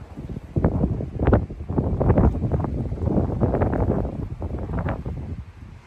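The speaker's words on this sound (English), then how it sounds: "It's such a windy day" Gusty wind on a blustery morning batters the microphone in uneven bursts, loud low rumbling buffets rising and falling irregularly throughout.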